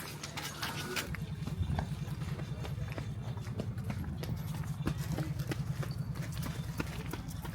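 Horse hooves clip-clop on hard ground near the Egyptian pyramids, a quick steady trotting rhythm close by that runs throughout over a busy outdoor background.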